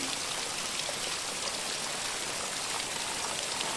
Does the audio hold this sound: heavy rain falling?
yes